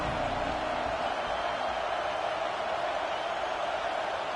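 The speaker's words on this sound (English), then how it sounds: "Here comes the noise from this big crowd in Happy Valley on 3rd down" A big football stadium crowd at Penn State in Happy Valley roars on third down, a dense, steady wall of distant cheering that holds level throughout.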